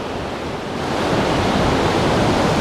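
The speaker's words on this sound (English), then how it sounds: "You fall asleep to the waves, the ocean breaking." Gulf of Mexico surf breaking along the beach at Padre Island National Seashore, a steady, loud wash of waves that swells slightly and never lets up, with no voices.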